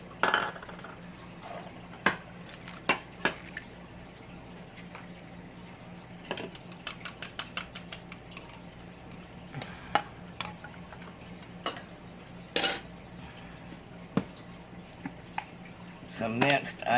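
An egg being beaten in a bowl gives quiet, irregular clicks and taps of a utensil against the bowl over a soft kitchen background, some strikes sharper than others.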